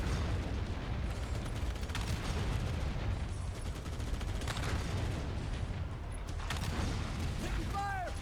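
Steady gunfire and battle noise from the game Halo: Combat Evolved, a dense continuous wash of shots and mechanical clatter with no clear breaks, heard throughout as loud game audio.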